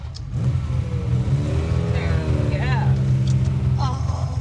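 A powerful V12 car engine idles with a deep rumble and revs up, with people talking and exclaiming over it at close range.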